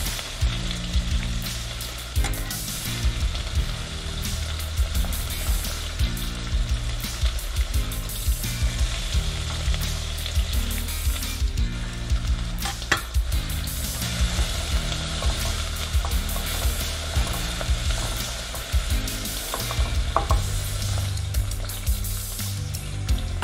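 Sausages and vegetables sauté in a pan for a vegan-option minestrone, giving a steady close sizzle and frying crackle with occasional stirring scrapes throughout.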